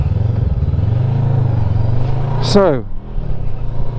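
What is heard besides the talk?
Voge 500DS adventure motorcycle engine while riding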